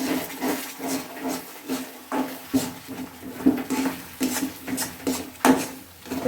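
Khichuri being stirred in a cooking pot, irregular scraping and knocking of a spoon against the pot, close and fairly loud, with no one talking.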